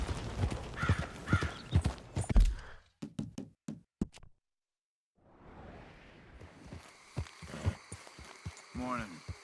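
Horse hooves clip-clopping in Red Dead Redemption 2, a string of sharp, evenly spaced hoof knocks after a busy opening, then a silent gap and a return of softer ambient sound with a brief whinny-like call near the end.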